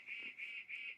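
A bird gives three evenly spaced, nasal goose-like honks, close and clear in an otherwise quiet outdoor setting, with no talking.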